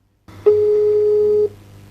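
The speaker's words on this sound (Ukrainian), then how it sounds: "номер абонента, якому ви телефонуєте, зайнятий або абонент відхилив наш виклик" A telephone busy signal sounds as a single steady electronic tone lasting about a second, clear and close over a faint low hum.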